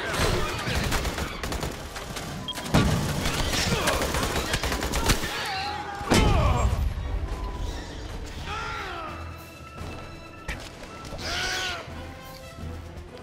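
Shotgun blasts in Aliens: Colonial Marines PC multiplayer, loud booming shots at irregular intervals amid dense gunfire, chaotic combat noise and shouting voices.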